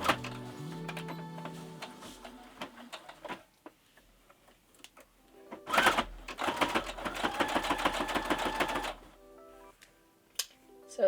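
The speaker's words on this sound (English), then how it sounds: "I'm going to start to sew around like a little pocket shape in my zigzag stitch" A sewing machine runs a zigzag stitch around a small pocket shape in minky fabric, giving a fast, close mechanical chatter in two bursts of several seconds each, with quieter clicks and handling noise between them.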